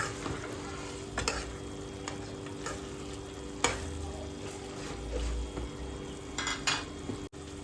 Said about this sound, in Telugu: సో ఈ విధంగా యాడ్ చేసుకుంటూ మిక్స్ చేయాలి